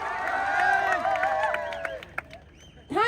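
Cheering and whoops from a crowd at an outdoor live music performance, loud voices and whistles at the start fading into scattered claps, then a fresh shout near the end.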